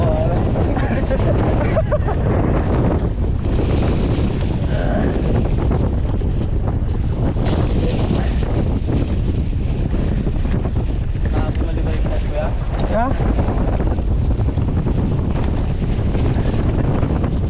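Strong wind roars across the microphone on a fishing boat at sea, a constant heavy rush with faint water and hull noise beneath, while people talk now and then.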